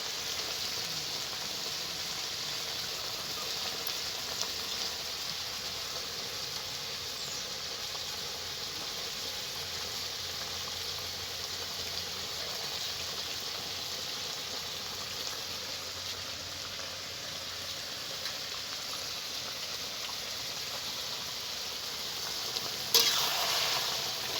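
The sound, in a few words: cashews, raisins and dates added to a sizzling pan of tomato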